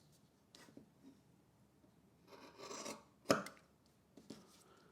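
Scissors snip a fabric corner diagonally after sewing, giving a few quiet, close cuts with soft rustling of cloth and one sharper clip in the middle.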